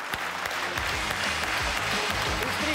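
Dense, steady applause from a concert audience greeting the performers, continuous and loud throughout without a break.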